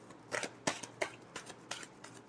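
Tarot cards are shuffled by hand in a quick series of soft riffling flicks and slaps, about six bursts in under three seconds, close and fairly quiet with no talking.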